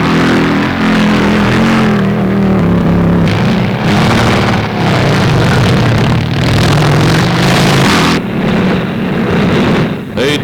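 US Army motorcycles riding cross-country over rough ground in high gear, a steady loud engine drone with revving surges throughout, under an announcer's voice.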